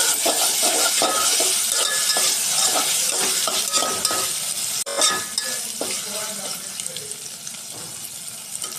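Vegetables with ginger garlic paste fry in a pan for dal rasam, a loud continuous sizzle broken by repeated scraping and knocking of a stirring spoon, with no talking.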